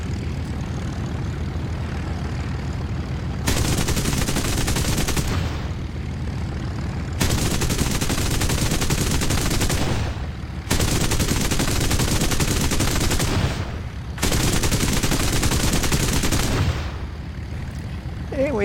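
Machine guns of a P-38E fighter in War Thunder fire in four long bursts, each a dense, loud rattle lasting a few seconds. Short gaps between bursts leave the aircraft engine droning on its own.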